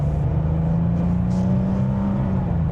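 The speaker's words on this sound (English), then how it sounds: "you can really enjoy listening to those revs get high, listening to that exhaust" A car engine hums steadily at moderate revs with exhaust tone, a continuous close drone with no distinct shifts or sharp revving.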